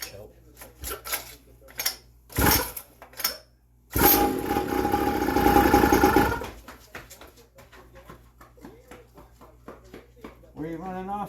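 A small engine on a budget pocket quad under repair catches and runs for about two seconds with a buzzing rattle, then cuts out, with people talking before and after.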